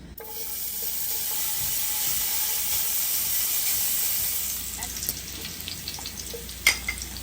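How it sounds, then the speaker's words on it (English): Loud, steady sizzling of bacon frying in a large skillet fades after a few seconds, followed by a few scattered clinks and pops. "to our large size skillet, we're going to start off with adding some bacon"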